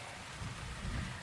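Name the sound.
rain sounds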